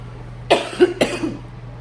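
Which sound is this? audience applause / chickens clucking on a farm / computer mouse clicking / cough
cough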